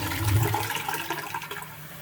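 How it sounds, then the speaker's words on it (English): A train toilet worked by a push-down lever flushes with a loud rushing gush of water that fades into a gurgling drain, close by and with no talking. "When you flush, look at this thing. You push it down."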